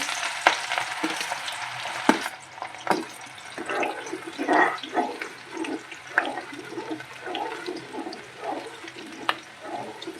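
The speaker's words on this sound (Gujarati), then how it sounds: "લસણનો વઘાર મારી દઈશું પહેલાં લીધું" Garlic tempering crackling in hot oil on a gas stove for Manchurian gravy, a busy broadband sizzle with uneven pops and stirring scrapes over about ten seconds, fairly close and without talk.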